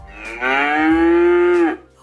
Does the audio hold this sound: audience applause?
no